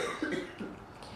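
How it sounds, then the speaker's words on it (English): A single person coughs once, close and fairly soft, in an indoor live talk setting with a low room hum behind it. "You can just cough."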